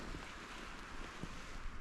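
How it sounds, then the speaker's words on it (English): Strong winter mountain wind rushes in a steady, faint broadband wash with slight gusty fluctuations and no talking. "The wind is getting pretty crazy again"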